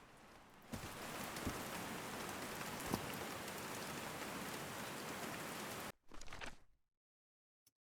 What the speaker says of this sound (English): As the sun rose, a light rain started.